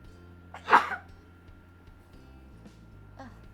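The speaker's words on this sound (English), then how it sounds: "I'm gonna sneeze, hold on." A single sharp sneeze bursts out near the start, followed by quiet room tone and a couple of faint small noises.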